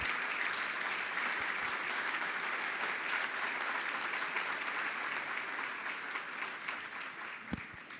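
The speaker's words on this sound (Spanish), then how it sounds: "les pediría un fuerte aplauso para todos" Sustained audience applause fills a hall at a Coparmex business event in Mérida, steady and dense from start to finish with a brief faint voice near the end.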